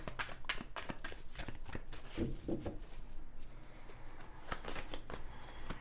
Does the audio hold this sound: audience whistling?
no